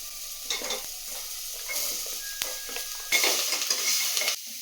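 Chopped vegetables tossed into a pan of frying onion and capsicum crackle and sizzle as they are stirred, with scraping and clinking of the spoon against the pan in loud bursts.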